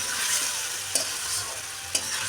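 Meat stir-fried in a pan, with a steady hiss of frying under two sharp spatula scrapes against the metal, roughly a second apart.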